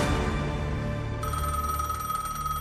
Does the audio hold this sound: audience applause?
no